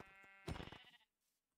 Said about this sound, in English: Sheep! Yes!